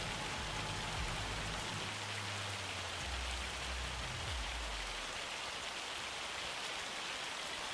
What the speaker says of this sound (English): Oh, it's really raining, isn't it? Hammering it down.